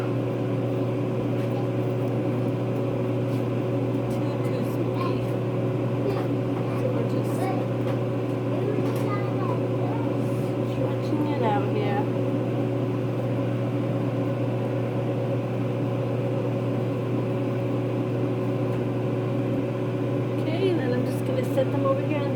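A kitchen oven fan hums steadily with a constant low drone that runs the whole time, while a person talks over it in a home kitchen where frybread is being made.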